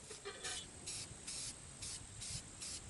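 Short hissing bursts from a spray paint can marking shooting-range targets, about seven evenly spaced sprays with brief pauses between them, close and moderately loud.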